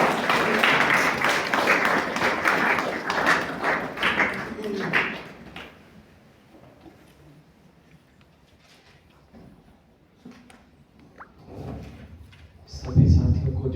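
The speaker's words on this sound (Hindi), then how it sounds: "कृपया तालियों से उनका स्वागत करें।" An audience at an academic memorial lecture applauds to welcome a speaker, a dense burst of clapping that fades out after several seconds, followed by quiet shuffling and a few thumps.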